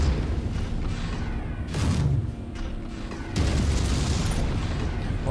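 Artillery shells explode in MechWarrior 5 during the Project Cold Snap campaign, two heavy booms with rumbling tails a second or so apart, loud and close over a steady combat din.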